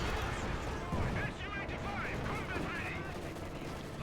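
Rapid MG34 machine gun bursts rattle through a Company of Heroes 2 battle, mixed with other gunfire and artillery rumble, while a commentator keeps talking over the din.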